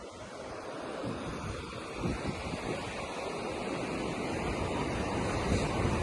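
Incoming tide washing up toward a beachfront walkway at Seminyak beach in Bali, a steady, full roar of surf with rolling swells and some wind buffeting the microphone, continuous throughout.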